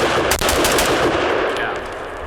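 Rifle with a Triarc 12.5-inch barrel fired at targets on a range, a loud rapid string of close shots blurring into one dense burst before tapering off.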